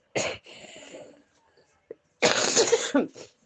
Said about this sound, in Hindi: सॉरी मैम, आज बहुत खांसी छींक हो रखा है।